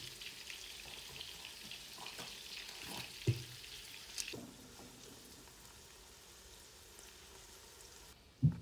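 Onions sautéing in oil in a pan for Bangalore donne biryani make a faint, steady sizzle with a few soft clinks of a utensil against the pan.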